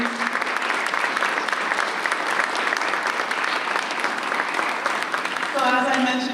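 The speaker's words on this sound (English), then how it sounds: "another round of applause to our Cardinal, please" Audience applause at the LHS Cardinal Awards 2023 school ceremony, a dense steady wash of many hands clapping throughout, moderately loud in a hall, with a voice starting to speak near the end.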